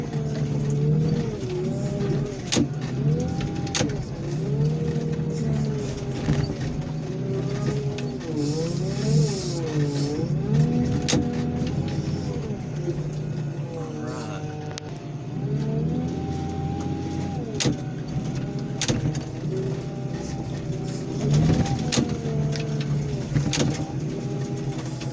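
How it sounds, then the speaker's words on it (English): A car crusher flattens a Ford Mustang. A steady droning engine with shifting, revving tones runs throughout, broken by scattered sharp knocks and creaks of metal giving way. "Mustang, devoured and crushed"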